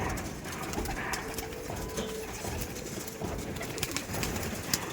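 Green-eyed Madras pigeons coo softly in the background among rustling and light clatter at a home pigeon sale, a continuous low murmur of birds nearby.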